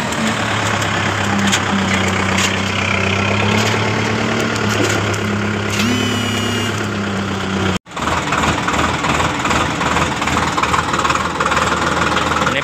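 A new tractor engine runs steadily throughout, a loud low rumble with a knocking idle character, continuing after a brief dropout midway.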